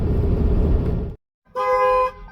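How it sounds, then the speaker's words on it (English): A car horn blares twice, set off while a repo man works a lockout kit airbag on the vehicle. The first blast is long and loud, followed by a short silence and a second, shorter honk. "that honking is because I just used my little lockout kit here, my little airbag"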